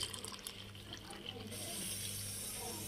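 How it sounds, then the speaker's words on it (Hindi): Cold water pouring from a glass into a pot of simmering Kashmiri pink tea, a faint steady splashing rush that swells and holds after a brief quieter start. "अब हम इसमें 1 गिलास ठंडा पानी शामिल करते हैं"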